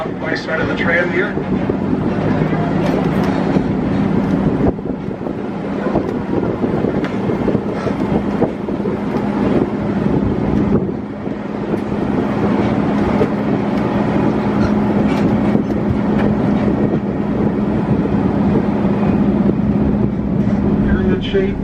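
An open tour tram rolls steadily through Shark Valley in Everglades National Park, a constant loud engine hum mixed with heavy wind rush on the microphone, with a guide's voice faintly under the noise.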